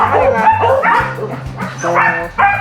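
Several dogs bark, yip and whimper loudly and close by as they wait to be fed, their calls overlapping in an excited, uneven chorus.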